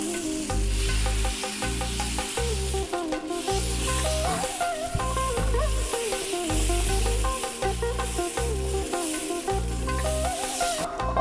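Pearl millet dosa batter is ladled onto a hot pan and sizzles with a soft, continuous hiss, mostly buried under loud rhythmic background music that runs the whole time.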